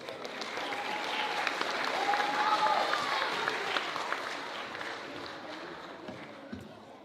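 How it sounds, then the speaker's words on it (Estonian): A school audience at a high school playback show applauds as a class comes onto the stage, with continuous clapping that swells in the middle and then eases slightly, and a few whistles over the top. "Palume nüüd aplausiga lavale."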